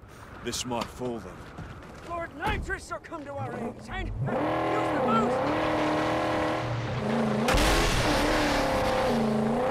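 Engine revving and tyre noise from a car driven in the Mad Max video game, with someone talking over the start before a steady, loud engine drone takes over for the rest.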